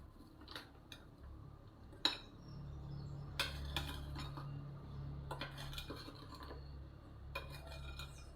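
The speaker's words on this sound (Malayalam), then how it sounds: "നല്ലതുപോലെ ഇളക്കി കൊടുക്കണം" Sponge cake batter is stirred in a bowl: quiet, close scraping and occasional clinks of a spoon against the side, over a faint low hum, with one sharper knock partway through.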